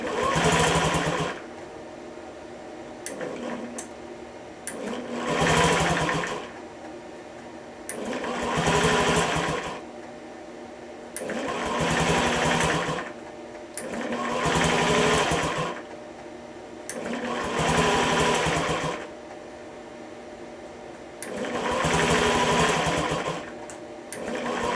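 Rebuilt Honda Ruckus scooter engine running in a buzzing, high-pitched drone that swells and dips in regular surges, roughly every three seconds, close and steady, with no talk.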